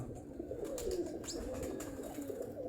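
A pigeon coos softly a few times, faint and close, over a steady low background hum.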